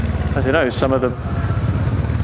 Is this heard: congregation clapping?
no